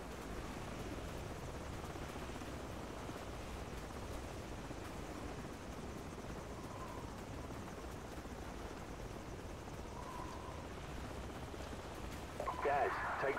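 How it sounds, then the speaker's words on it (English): Constant low rotor thrum of enemy helicopters in Call of Duty 4: Modern Warfare filling the background, with a faint rumbling wash and a brief sharper burst near the end. "Enemy helicopters."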